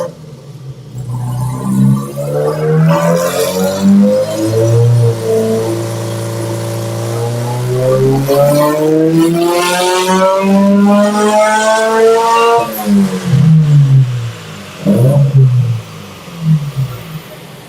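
A Subaru EJ20Y running on ethanol with a GTX3076R turbo and a Link G4X ECU revs hard under about 14 psi of boost. Its engine note climbs steadily in pitch, then drops off, loud and close throughout.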